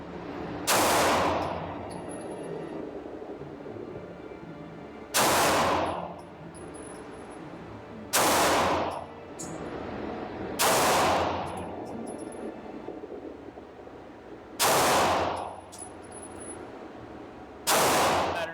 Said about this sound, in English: I'm gonna try it at 65 and see if I have that same consistent shot pattern outside for the Stealth Arms.